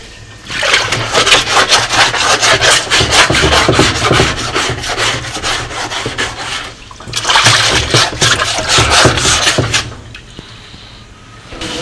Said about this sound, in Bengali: ভিতর সাইডটা এইভাবে ঠিক সাবান দিয়ে পরিষ্কার করলেই হয়ে গেল